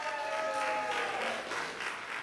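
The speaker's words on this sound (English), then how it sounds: "All right, give them a round of applause." An improv theatre audience gives a steady round of applause, with a sustained tone running beneath the clapping.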